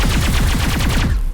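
Rapid automatic rifle fire in the video game Mass Effect, played on Xbox Series X, with a loud, steady, fast stream of shots that stops abruptly at the end, with no voices.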